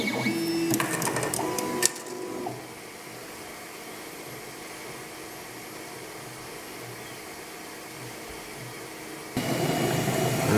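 An Ultimaker 2 3D printer running a print, giving a steady mechanical hum with a burst of stepper-motor whirring and tones at the start and a louder surge near the end.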